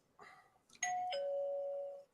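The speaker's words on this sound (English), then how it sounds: "Who just got their doorbell ring?" Doorbell ringing, a two-tone ding-dong heard once, moderately near, the second tone sustaining and fading out, with no voices over it.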